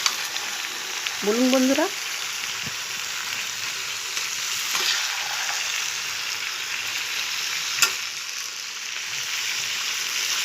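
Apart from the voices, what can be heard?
stirring Malabar spinach with vetki fish oil in a pan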